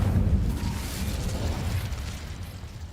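An Incendio fire spell cast in Hogwarts Legacy bursts with a loud whooshing roar, then fades over a few seconds into a steady rumble.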